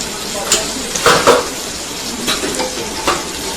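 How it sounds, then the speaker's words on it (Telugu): Mustard seeds sizzling in hot oil as a tempering for coconut rice, a steady frying hiss broken by scraping stirs and light metal clinks of a spoon against the pan. "ఇదిగోండి కొబ్బరి అన్నానికి ఆయిల్ వేసుకుందాము. ఇదిగోండి ఆవాలు వేసుకుందాము."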